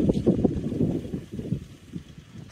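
A brief gust of wind rushes past a 48-volt e-bike hub motor wind turbine with bigger blades as it starts spinning, a soft, rumbling whoosh up close.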